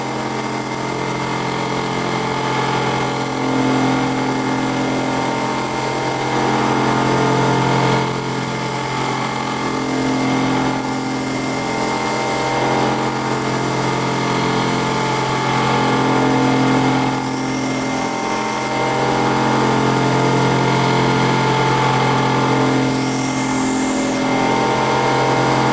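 Steady loud drone of a bench grinder putting a clearance angle on a twist drill bit, with a continuous hum and a high whine that rises and drops as the bit is pressed on and lifted off the wheel at irregular intervals.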